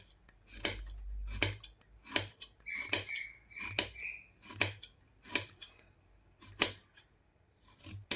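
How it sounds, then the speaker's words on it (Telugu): A knife chops a carrot into small pieces on a cutting board, a series of crisp, evenly spaced taps with short pauses between them, close and fairly quiet, with no talking. "ఇప్పుడు క్యారెట్ని అయితే చిన్న చిన్న ముక్కలుగా కట్ చేసుకోవాలి"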